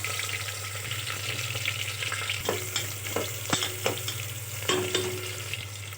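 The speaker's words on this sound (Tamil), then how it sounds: "இது நல்லா பொரிஞ்சதுக்கப்புறம் இது கூட வந்து நம்ம வெங்காயம் ஆட் பண்ணிக்கலாம்" Onion and green chilli frying in hot oil with bay leaf, fennel and cumin, a steady close sizzle broken by several sharp spoon-against-pan scrapes and clinks, with no voices.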